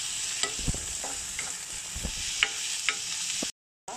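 Chopped onion frying in a pan, a steady sizzle with a few stirring scrapes and knocks, close and alone, with a short break near the end.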